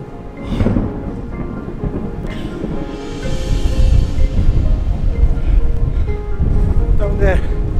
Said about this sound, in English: There is a storm coming directly in my direction.